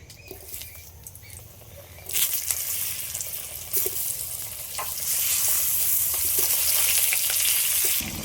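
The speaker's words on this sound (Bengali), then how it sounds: "মাছের থেকে কত তেল গলেছে এই তেলের মধ্যেই আলুটা আমি ভেজে নেব" Potatoes fry in oil rendered from silver carp, starting with quiet clatter before a sharp sizzle erupts and builds into a loud, steady crackling close by.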